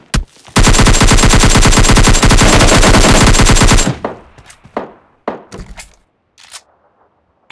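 Automatic gunfire in the mobile battle royale game PUBG Lite: a loud, rapid burst of several seconds, followed by scattered single shots and thuds tapering off into quiet.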